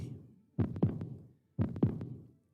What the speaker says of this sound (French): avec ses battements de cœur